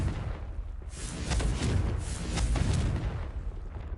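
Confringo fire spell detonating in Hogwarts Legacy, a deep booming blast with rumbling low end and crackling bursts repeating across the few seconds, loud and dense with no voices.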